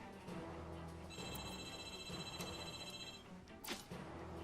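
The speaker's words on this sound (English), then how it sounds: "there goes my phone there." A phone rings with steady electronic tones over game sounds during a classic Xbox online session of Risk Factions, lasting a couple of seconds beside the game's background noise.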